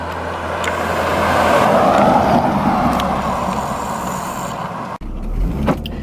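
Porsche Cayenne SUV of about 5,400 pounds cruising on roads in northeastern Pennsylvania, a steady broad engine and road hum that rises slightly mid-drive, with a brief dip near the end, no talk.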